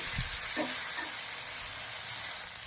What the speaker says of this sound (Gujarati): એને પણ બે મિનિટ જેવા સાતરી લેવાના છે ડુંગળી જોડે